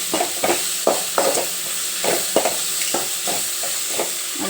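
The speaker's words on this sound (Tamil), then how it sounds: "இது நல்லா கொஞ்சம் வாசனை போகிற மாரி வதக்கலாம்." Chicken with ginger garlic paste sautéing in a pan for Tamil chicken gravy, a steady loud sizzle broken by regular scraping stirs about every half second, with no talking.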